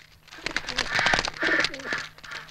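Pigeons coo close by in soft, repeated throaty calls, with a voice talking over them.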